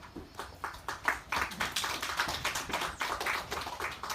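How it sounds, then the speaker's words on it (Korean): A concert audience at a Korean literary festival claps to welcome a violinist onto the stage, a fairly faint but dense patter of many hands that keeps going steadily throughout. "여러분 뜨거운 박수로 모시겠습니다"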